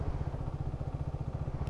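A Peugeot PM-03 scooter engine running close up, a rapid, even low-pitched pulsing chug that stays steady and fairly loud throughout, with no talking.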